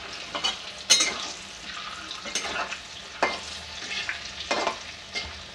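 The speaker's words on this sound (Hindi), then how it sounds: "तो हम सारे गट्टे को इसी तरह फ्राई कर लेंगे।" Besan gatte fry in hot oil in a kadhai with a steady close sizzle, broken by occasional louder spattering bursts as the pieces are stirred, with no voices.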